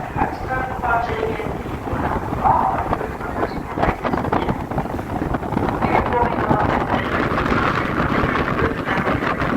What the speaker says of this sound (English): The wind is pretty vicious out here.